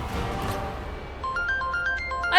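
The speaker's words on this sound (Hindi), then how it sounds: "अरे किसका फोन आ रहा है?" A mobile phone ringtone plays, a bright stepping electronic melody rising in loudness after a brief stretch of indoor background noise, close and clear.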